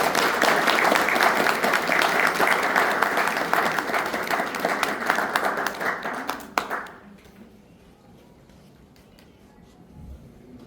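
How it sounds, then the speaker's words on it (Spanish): Audience applause welcoming a speaker at a conference on artificial intelligence: dense, steady clapping from a large crowd for about seven seconds, then cutting off abruptly into quiet room tone. "Recibamos con un fuerte aplauso a Alberto Castillo Aroca."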